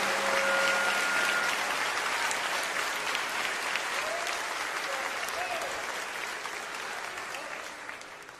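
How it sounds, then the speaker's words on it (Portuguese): A church congregation applauds in praise, a broad, continuous wash of clapping that stays loud, then tapers slightly toward the end, with a faint tonal hum early on. "Palmas para Jesus."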